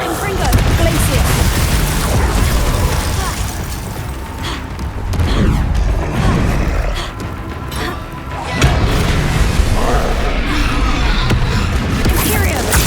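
Spell blasts from Confringo and Glacius in the Hogwarts Legacy game, a dense, loud barrage of booming impacts and crashing bursts over continuous battle noise, with repeated explosive hits throughout.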